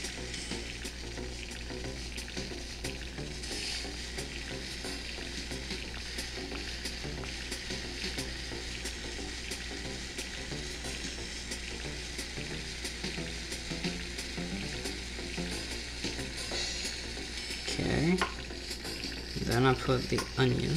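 Butter sizzles steadily in a hot pan with a continuous frying hiss, while a utensil scrapes and stirs near the end, close and moderately loud with no talk.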